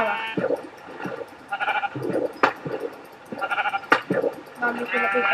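Minecraft sheep bleat repeatedly while the player hunts them on the first survival day, several wavering bleats in bursts mixed with sharp hit sounds, with someone talking over them.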